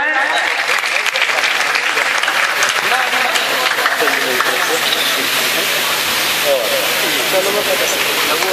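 Loud, sustained applause from the audience at an Urdu mushaira poetry gathering in Moradabad, a thick continuous roar of clapping filling the hall without pause.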